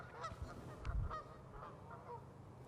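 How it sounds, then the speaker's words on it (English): Canada geese honking in a natural setting, several short nasal honks scattered over a few seconds at moderate distance, with a louder low burst of noise midway and no talk. "those are Canada geese"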